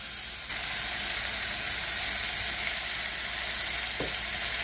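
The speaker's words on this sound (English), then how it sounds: "We're just going to sear them bad boys." Beef hind shanks sear in a hot pan, a steady loud sizzle and crackle that starts abruptly and continues without pause, close up and alone.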